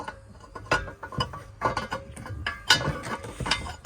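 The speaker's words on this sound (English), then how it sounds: "get yourself a gas spanner or adjustable wrench, and then put it on and give it one nip around the top of the bottle" A gas spanner tightening the fitting on top of a gas bottle, a few close metallic clicks and clanks of tool on brass, irregular and brief, no speech.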